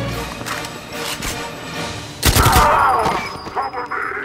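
Gunfire in Goldeneye 007 on the Wii: a burst of loud, rapid shots and thuds near the middle, with quieter game sounds before and after.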